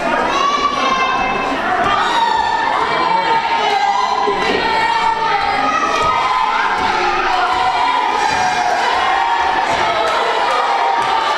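A wrestling crowd at a live independent show cheers loudly and calls out at a wrestler, with many shouting voices including children's, steady and dense throughout.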